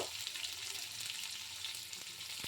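Cubed potatoes fry in hot oil in a pan, giving a steady, close sizzle with faint crackles throughout and no voices.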